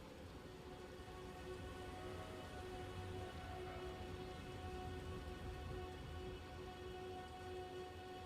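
Steady rain fills the Elden Ring game world, a dense continuous hiss with soft low rumble and faint tonal background music lines running through, even and unbroken throughout.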